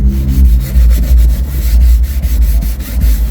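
A scrub pad worked back and forth over greasy car seats gives rapid, rhythmic rubbing strokes, close and steady, with no talking over it.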